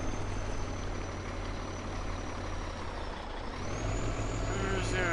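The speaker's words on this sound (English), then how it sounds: "We're just gonna park this trailer right here." A truck hauling a trailer in the Farming Simulator game, its engine droning steadily and loudly throughout, dipping briefly midway before rising again.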